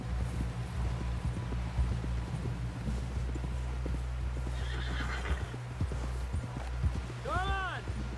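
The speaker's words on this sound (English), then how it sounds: "Someone help John down off this horse." Horse hooves clip-clop steadily through a busy soundscape in the video game Red Dead Redemption 2, with a horse whinnying near the end and voices in the background.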